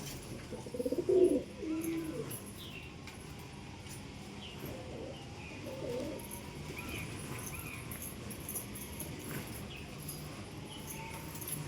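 Pigeons in a pigeon house give low soft coos, one clearer burst near the start and fainter ones later, over a quiet steady background.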